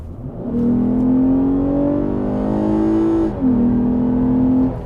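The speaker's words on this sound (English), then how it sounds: "it is kind of loud in here, but a good loud, like engine sound loud" A 2020 Lexus IS350 F Sport engine revs up loudly from inside the cabin in Sport Plus mode, its droning induction pitch rising steadily, dipping briefly at a gear change, then climbing again.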